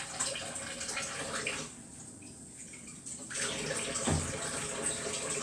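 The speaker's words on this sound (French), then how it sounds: "On va laver ces petits poivrons." Small bell peppers rinsed under a running kitchen tap: a continuous splashing water stream that briefly quiets and then returns with heavier splashes and a thud.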